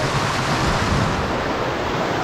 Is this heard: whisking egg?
no